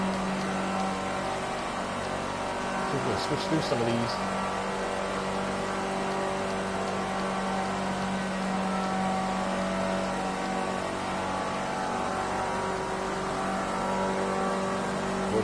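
A race car engine in Project Cars 2 hums steadily throughout, heard from the onboard driver's view at a constant drone with a brief flurry of clicks near the start, while someone talks over it.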